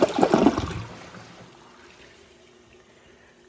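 A 2015 American Standard Champion 4 Max toilet flushes, a loud rushing gurgle of bowl water draining in the first second, then fading into a quiet trickle of refill water.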